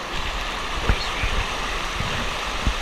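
Fast-moving stream water rushes and gurgles close by on the Owls Head Loop, a continuous churning flow with a few splashy surges and knocks as someone wades in.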